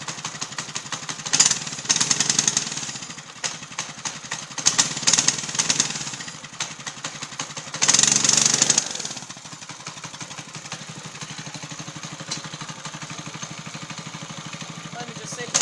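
A small mini bike engine idles with a rapid, buzzy putter, swelling in a few louder revving bursts before settling, while someone talks over it.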